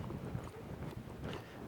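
A ridden horse moving in a circle, its muffled hoofbeats thudding softly in an uneven rhythm amid wind and outdoor noise.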